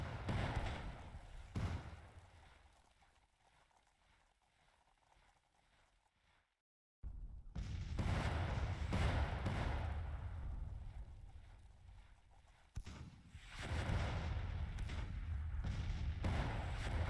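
Heavy booms from Civil War artillery in Grand Tactician, an 1864 Confederate assault on a fort, thumping loud and low in several bursts, with a quieter lull and a brief silence between volleys.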